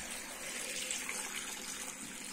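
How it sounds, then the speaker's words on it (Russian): Water poured into a 6-litre cooking pot for pumpkin juice, a soft steady splashing stream running evenly throughout at low volume with no talk. "Нальем чуть-чуть воды."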